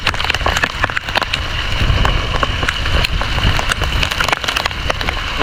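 Heavy rainstorm pouring down on a small fishing boat at sea, a dense, steady roar of rain drumming the hull and surroundings with scattered sharper splashes and knocks throughout.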